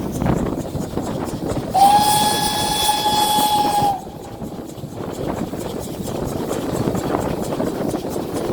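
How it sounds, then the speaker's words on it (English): A long, clear steam locomotive whistle blast sounds for about two seconds over a steady rumbling background, ringing out across a river, then fades back to the low ambient noise, on the Dartmouth Steam Railway arriving at Kingswear Station. "Interesting how much the whistle rings out across the river."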